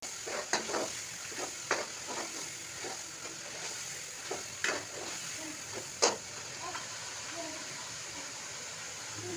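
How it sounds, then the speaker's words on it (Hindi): Spice masala for an aloo matar gajar curry frying in a pan, a steady hiss and sizzle with intermittent scraping clicks of a spoon stirring it, under faint talking. "ये देखिए मसाला हमारा तकरीबन अच्छे से फ्राई हो गया है। थोड़ी सी देर हम इसमें चम्मच और हिलाते रहेंगे"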